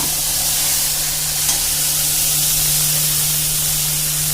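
Whole cumin, bay leaf, dried chilli and onion sizzle in hot oil for a malai egg dish, producing a loud, steady hiss of frying that continues throughout with no talking.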